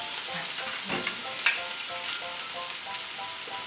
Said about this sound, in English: So give it a nice stir and then give it a minute or so to actually start caramelizing.